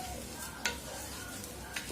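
Rice frying in a pot as it is stirred, a steady low sizzle broken by two sharp scrapes of the spoon against the metal, close and with no voices.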